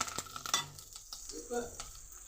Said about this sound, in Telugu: రెండు మిరపకాయలు వేసానండి ఫ్రై అవుతుంది చూద్దామండి ఒకసారి చూడండి ఫ్రై అవుతుంది